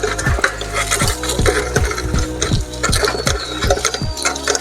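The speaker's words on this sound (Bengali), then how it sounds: "গাইস আমি কিন্তু নাট ছাড়া সাইকেলটিকে চালাচ্ছি" A bicycle ridden with a missing nut gives off a steady, loud mechanical ratcheting and clicking, with repeated rhythmic ticks from the drivetrain and light rattles all the way through.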